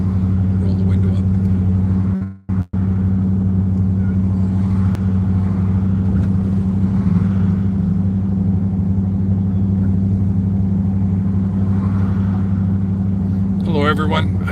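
A car driving through the streets of New Westminster, heard from inside the cabin with the window rolled up: a steady, loud low engine and road hum that runs throughout, broken only by a brief dropout near the start.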